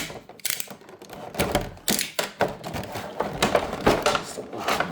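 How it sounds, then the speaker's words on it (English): Toy packaging taped in several places being pried open: irregular crackling tape pulls and cardboard scrapes in bursts, close and fairly quiet, with no talking. "go ahead and get this open. It's taped in a few different places here."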